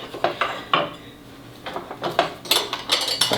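Festool router table fence being opened and loosened, a series of close metallic clicks, clatters and knocks in irregular short bursts, with no voices.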